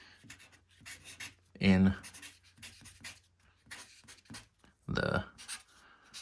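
A pen scratches on a sticker in short bursts, with two louder scribbling strokes standing out between pauses, while someone talks quietly over the quieter writing.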